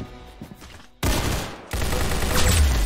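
Rapid bursts of gunfire in the Roblox shooter Arsenal, a loud dense fusillade that cuts in abruptly, pauses briefly, then continues with heavy sustained shots.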